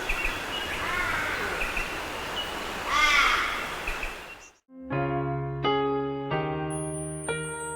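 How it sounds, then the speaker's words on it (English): A crow gives several loud, harsh caws in steady succession while feeding on kangaroo roadkill in Australia's Northern Territory, after a stretch of rustling outdoor noise. "it may interact with other species of crows and ravens, especially at sites of abundant food"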